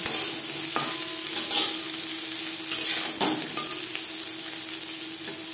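Jute stems and four pointed gourds fry together in a pan, giving a steady hiss of oil with occasional spatula scrapes and stirs over it.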